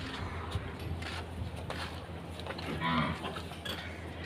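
Buffalo on an Indian dairy farm lows in drawn-out moos, close and clear over faint farmyard background, with no talking.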